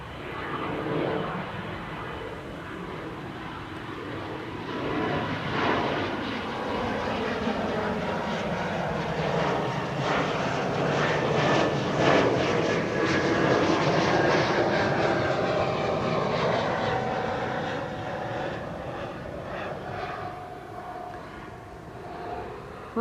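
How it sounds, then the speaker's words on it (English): An Embraer E2 195 jet at Amsterdam Schiphol Airport roars steadily, a broad engine rumble that swells and sweeps in pitch as it passes, moderately distant and continuous with no talk. "E2 Embraer 195"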